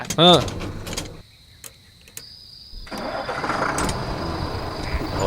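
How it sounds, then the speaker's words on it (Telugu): A bus engine cranks and catches, starting with a short loud burst, then a quiet gap before the motor settles into a steady mid-pitched idle that continues to the end. Voices are heard briefly at the start. "న్యూట్రేసి బండి స్టార్ట్ చేయరా"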